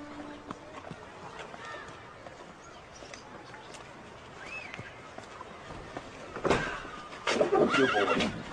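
Horse at Rugby School in a period drama, giving a clear whinny near the end, with faint hoof clip-clops and outdoor background before it.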